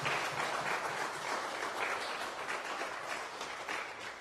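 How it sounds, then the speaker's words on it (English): Audience at a high school fantasy football draft event applauds drafted players, a steady, dense wash of clapping from many hands that holds for the whole stretch and tapers slightly toward the end. "So let's give them a round of applause."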